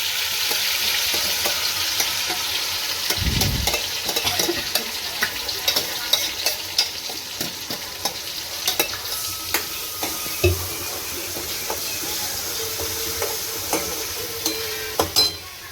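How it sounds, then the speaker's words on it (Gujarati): Onion, tomato and chilli paste frying in hot oil for a sev bhujia curry, a dense continuous sizzle up close with scattered clicks and spoon scrapes against the pan, no voices. "આ રીતે અવાજ આવવા માંડે એટલે ડુંગળી ટમેટા અને મરચાંની પેસ્ટ"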